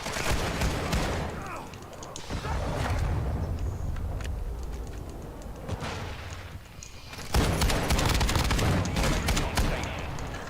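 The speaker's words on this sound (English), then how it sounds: "Friendly cruise missile approaching target." A cruise missile strike in the video game Call of Duty Warzone: loud rolling booms and crackling bursts of gunfire, rising in waves and surging again near the end.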